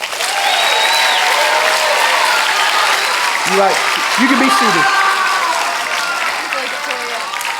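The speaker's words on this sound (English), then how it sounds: "Another round of applause." Audience applause fills a church worship gathering, a steady, dense wash of clapping that holds loud throughout, with a voice briefly speaking over it partway through.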